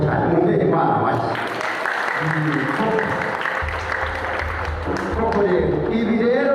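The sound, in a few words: applause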